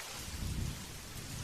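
Steady rain hisses close by with a low rumble of thunder swelling briefly in the middle, quiet and continuous without voices.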